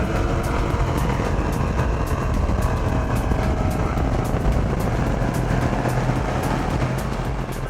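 A powerful boat engine roars loudly and continuously, a deep rumbling growl with a steady pulsing rhythm and no talking.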